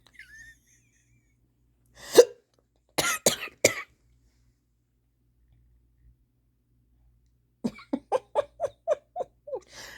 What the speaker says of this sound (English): why are my hiccups like this?